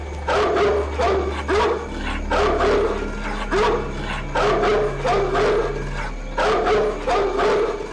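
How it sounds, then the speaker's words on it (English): A dog barks repeatedly in rhythmic bursts in Splinter Cell: Pandora Tomorrow, loud and close, with a low steady hum underneath and no talking. "What the hell is wrong with that dog?"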